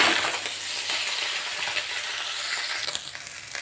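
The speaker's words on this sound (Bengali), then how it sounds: "এভাবে তল উপর লাল লাল করে ভেজে নিতে হবে" Small murala fish fry in hot oil in a pan, flipped and browned until reddish, giving a steady broadband sizzle and hiss that stays fairly even throughout with no talking.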